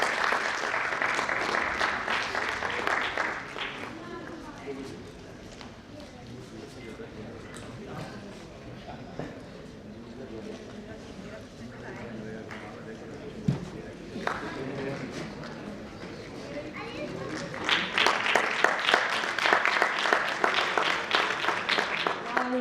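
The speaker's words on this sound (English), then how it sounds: "A big clap for him, please." An audience at a sports and exercise medicine conference breaks into a burst of applause, which dies down under a speaker's voice and then swells again into loud clapping at the end.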